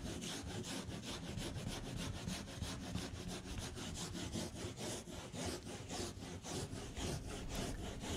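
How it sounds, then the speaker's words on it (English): Hand tool grinding excess foam out of a surfboard's concave, a steady aggressive rasping scrape that repeats in quick back-and-forth strokes, close and continuous throughout with no talking. "So now I'm just going to grind out all of that excess foam in the center there"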